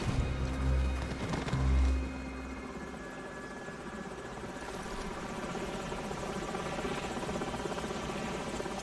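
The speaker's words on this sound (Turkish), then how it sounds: "Düşman helikopterleri." Enemy helicopters in the Call of Duty 4: Modern Warfare level Ultimatum, a steady rotor drone with heavy low thumping near the start, then settling into a constant mid-distance whir under battle ambience.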